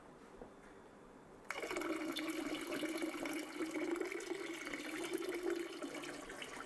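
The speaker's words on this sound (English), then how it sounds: "let's get the hot water rolling here" Water starts running abruptly and keeps gushing steadily from a tap while warm and cool water are added for mixing spiced mead with vanilla bean and chamomile.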